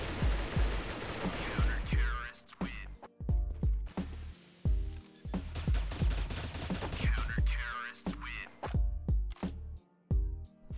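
Repeated wallbang gunfire in CS:GO on de_nuke, rifle shots punched through walls and floor in bursts of sharp cracks separated by brief pauses, loud and close throughout.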